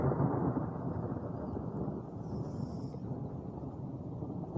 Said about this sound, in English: Yeah, that's thunder.